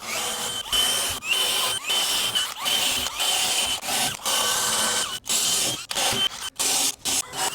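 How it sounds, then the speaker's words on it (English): Cordless power drill boring holes through framing for a basement rough-in, in repeated loud bursts of high-pitched whirring separated by short pauses, with some grinding bites as the bit cuts. "just turn that laser on, and then I'm running them all nice and straight"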